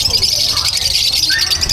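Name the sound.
birds calling at a pet market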